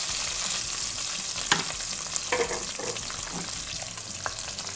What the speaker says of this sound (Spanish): El tocino lo tenemos un poco frito.